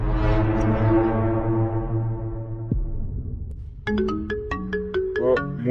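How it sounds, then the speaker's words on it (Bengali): A mobile phone ringtone plays loudly nearby: a sustained falling synth tone fades out, then a run of bright, evenly spaced melodic notes follows, with no voices. "মুন্নার ফোন।"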